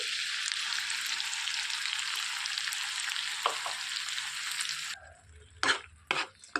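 Ground paste goes into a hot pan for a paneer masala curry, a strong bright sizzle that drops off suddenly, followed by a few sharp clinks and scrapes of a utensil against the pan.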